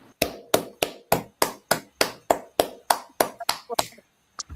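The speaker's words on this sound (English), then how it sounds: "All right, clap it up." About a dozen loud, evenly spaced claps from a small group of people, close and sharp, with a brief pause before a final clap at the end.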